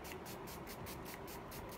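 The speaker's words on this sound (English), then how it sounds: "So I'm gonna give that a spray." A steady, soft hiss of makeup setting spray misting, with rhythmic pulses in the hiss as if from repeated pumps, close by and continuous.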